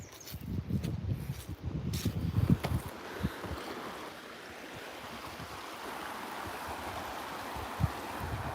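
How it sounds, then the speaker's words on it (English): A small Siberian stream flows with a steady broadband rush, accompanied by gusty wind and handling bumps in the first few seconds before settling into a continuous, moderately quiet babble. "Look at the streams."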